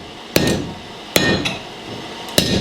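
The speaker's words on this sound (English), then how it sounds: "I'm drawing it out aggressively at the corner of the anvil" A blacksmith hammers steel on the corner of an anvil while drawing it out: three sharp, ringing hammer blows spaced about a second apart, each followed by a short metallic decay, close and loud with no talking.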